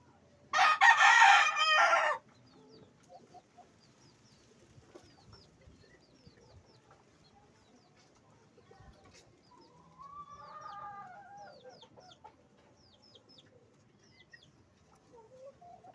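Breeding roosters crow loudly and nearby at the start, followed by softer clucking and scattered calls from chickens and other fowl.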